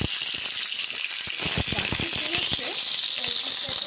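Potato pieces frying in hot mustard oil, a close, bright, continuous sizzle with crackling pops and light clicks from stirring throughout the few seconds.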